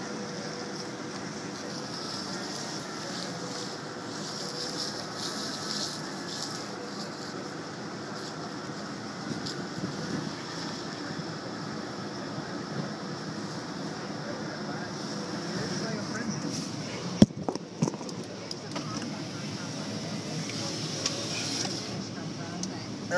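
A 1996 Ford F-150 pickup drives off on a frozen cold morning with a steady low engine rumble throughout, a sharp knock partway through, and nobody talking.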